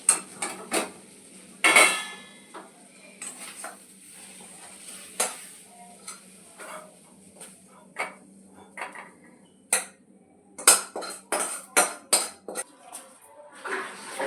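Fish bhujia being transferred from a pan into a serving bowl in a home kitchen, heard as scattered clinks and scrapes of a utensil against metal and dishes, intermittent and fairly quiet, with a brief louder clatter near the start.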